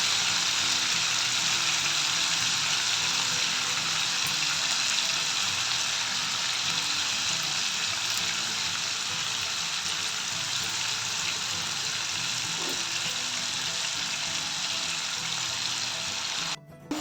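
Minced mutton keema fries in about three tablespoons of oil with curry leaves, giving a steady, loud, close sizzle that runs unbroken throughout with no talking.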